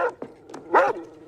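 A dog gives a few close, loud barks and whimpering yips during a tense armed police entry into a home.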